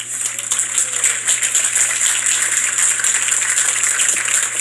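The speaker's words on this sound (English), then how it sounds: "A big round of applause and welcome to Dr. Mustafa Cissé." Applause from a conference audience welcoming a guest onto an AI and digital health stage, a steady, moderate wash of clapping that runs continuously and evenly throughout.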